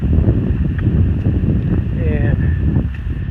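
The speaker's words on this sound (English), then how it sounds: "it's kind of windy up here on the ridge" Wind buffets the microphone on a mountain ridge along the Appalachian Trail, a loud continuous low rumble that swells and eases, with faint higher tones drifting through.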